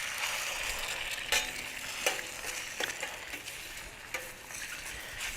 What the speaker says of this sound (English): We're going to get our 2 eggs on there.